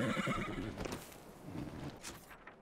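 A horse whinnying in the video game Dragon Age Inquisition, a faint, drawn-out neigh with hoof clip-clops under a noisy game background.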